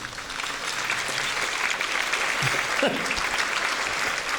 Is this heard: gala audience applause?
yes